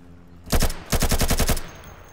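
Automatic gunfire from guns in a shooter video game, a short two-shot burst followed by a rapid string of about eight loud, close shots, then quiet.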